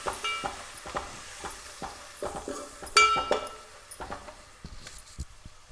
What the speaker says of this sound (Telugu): కొంచెం పసుపు, ఇంకా కొంచెం బ్రౌన్ కలర్ వచ్చేంత వరకు వేయించుకుందాం